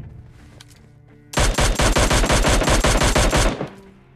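A quick string of Mini14 rifle shots in PUBG Lite, about a dozen loud, closely spaced reports fired in a rapid spray, then a short fading tail.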